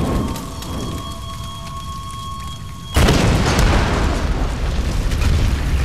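A deep underground explosion in the video game Tomb Raider bursts suddenly after a quiet stretch of tonal ambience, followed by a loud, sustained crackling rumble of falling debris.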